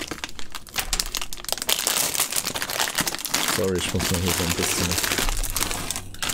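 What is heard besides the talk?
crinkling sound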